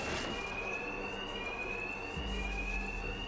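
A continuous alarm tone sounds in the Batman Arkham Knight video game, a steady high whine over a dense rumbling background throughout.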